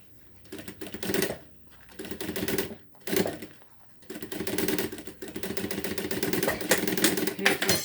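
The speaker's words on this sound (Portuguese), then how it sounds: "E vou passar uma costura em toda a volta." A sewing machine stitches around the edge of a zippered half-moon cosmetic pouch, running in several separate bursts of rapid mechanical stitching broken by short pauses, then a longer steady run near the end.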